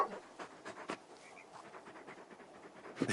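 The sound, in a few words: dog Torgal panting, from video game Final Fantasy XVI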